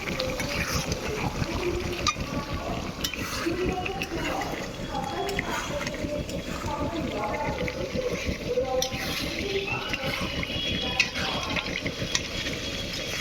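Water is poured into a pot while chicken cooks over an outdoor fire, giving a steady, soft rushing splash under continuous nearby talking.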